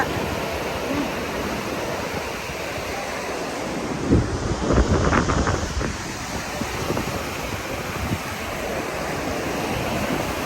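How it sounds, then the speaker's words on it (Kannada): Strong wind roars and buffets the microphone over the steady wash of surf at Veer Beach, with a brief louder gust near the middle. "ಸಿಕ್ಕಾಬಟ್ಟೆ ಗಾಳಿ ಇದೆ ಕೂಡ"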